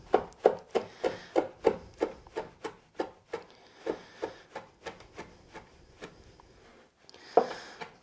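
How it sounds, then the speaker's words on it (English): Fresh rosemary leaves rough-chopped with a knife on a wooden board, a steady run of about twenty crisp rhythmic chops that slow and fade, then a final louder knock. "First I'll give it a rough chop"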